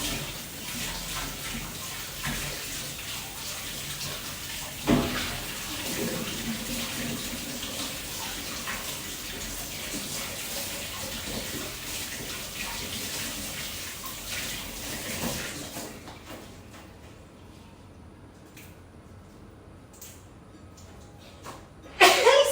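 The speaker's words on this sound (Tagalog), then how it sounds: "At ang una kong gagawin ay hugasan muna ang mga gulay." A kitchen tap runs steadily while vegetables are washed under it, a near, continuous hiss of water that drops away sharply near the end, followed by quieter handling noises.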